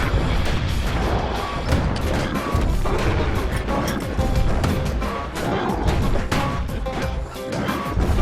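Heavy mortar blasts and rapid turret fire from the video game Bastion form a dense, continuous barrage of booming impacts and crackling shots, loud and close, with no pause for the full length.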